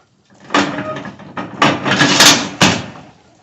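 The door and fold-out step of an Aliner Scout camper are opened, with a few loud clanks and thuds close by over a steady rustle.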